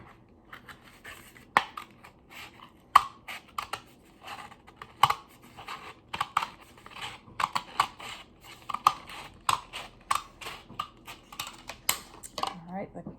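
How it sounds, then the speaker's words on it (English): Scissors snip around the sides of a paper plate for a rabbit-hat craft, a run of quiet, irregular crisp clicks and paper rustles spread over several seconds. "Now I'm going to take a pair of scissors and cut"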